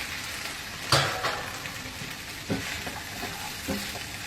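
Shrimp stir-frying with shrimp paste in a hot pan, a steady sizzle broken by a few sharp scraping clatters as the mixture is tossed and stirred, with no talk.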